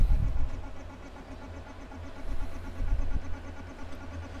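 A pulse motor under SSR speed control hums and pulses with a rhythmic beat, its low throb growing louder midway as it speeds up, fairly close and moderately quiet.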